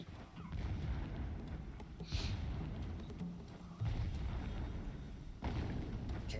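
Explosions in the video game Horizon Zero Dawn, dull low rumbling booms and thuds rolling continuously with a few sharper bursts, moderately loud over a dense game soundscape with no talking.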